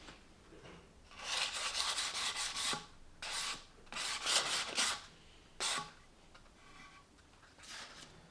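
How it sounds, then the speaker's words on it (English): Sandpaper rubs in short rasping bursts along the edges and ends of a wooden plant stand, several separate strokes with brief pauses between them, close and fairly quiet. "I'm going to go around and sand all the edges, the ends and the edges, and then do the flat surfaces."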